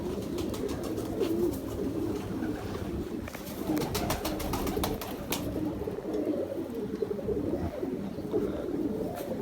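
Ferozpuri pigeons coo continuously in low, throaty murmurs, several birds overlapping close by, with occasional clicks and rustling.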